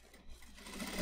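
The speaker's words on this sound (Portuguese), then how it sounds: "Aí vamos passar a costura aqui para franzir, pra gente colocar ali no punho." A sewing machine runs a gathering seam on a chemise dress with a ruffle, its soft, rapid stitching buzz rising over about a second.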